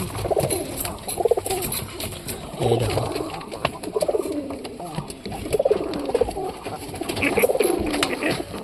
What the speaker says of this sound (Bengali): আমার এই দেশি কবুতরটা একটা ডিম দিয়ে দিয়েছে ভাই